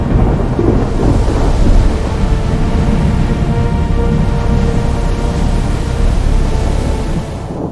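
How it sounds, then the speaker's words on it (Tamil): A thunderstorm over the sea roars loudly and continuously, with heavy rain hiss and rolling thunder filling the whole stretch and fading slightly at the end. "யோனா தப்பிப்போன கப்பலை ஒரு கடும் புயல் சூழ்ந்தது."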